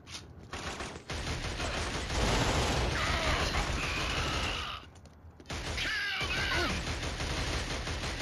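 Gunfire in the Killzone shooter game: dense, continuous bursts of automatic weapon fire fill the scene for several seconds, briefly cut off around midway, then resume loud with rattling mechanical clatter.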